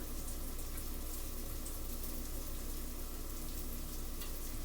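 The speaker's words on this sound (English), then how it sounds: "I'm sauteing my vegetables" Vegetables sauté with flour in a pan, giving a steady broadband sizzle that holds constant and fairly faint from start to finish, with no talking.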